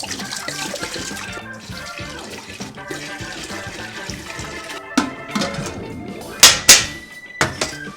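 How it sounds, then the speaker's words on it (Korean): Makgeolli poured into a Chinese-made distillation still, with a steady splashing, gurgling flow throughout and a few sharper sloshes and knocks toward the end. "여기다가 막걸리를 부어 넣어요"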